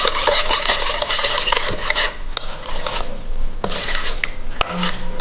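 Chilli oil being stirred with soy sauce and sesame oil in a bowl, a close, steady rasping of the spoon with sharp little clicks against the side, loud and continuous with no talking.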